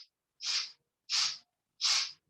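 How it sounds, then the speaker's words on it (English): Rapid sharp sniffing breaths through the nose during a breathing exercise, a short partial one followed by three distinct evenly spaced bursts, close and clear with silence between. "you're inhaling 4 sniffs through the nose"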